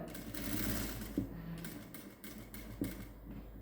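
A sewing machine runs at close range as it stitches a frilled gown made from an old silk saree. The needle rattles quickly and steadily, and the sound is soft and muffled.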